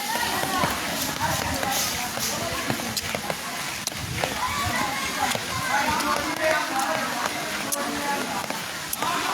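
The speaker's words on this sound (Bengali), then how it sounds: "প্রচুর পরিমাণে বৃষ্টি হয়েছে এবং এখনও বৃষ্টি হচ্ছে।" Steady rain pours down during an outdoor football procession, a dense broadband hiss dotted with sharp patter and knocks, while a crowd murmurs and voices carry underneath throughout.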